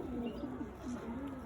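A Madras Jack pigeon coos softly nearby, with a few low, rolling, wavering calls in quick succession over faint background hiss.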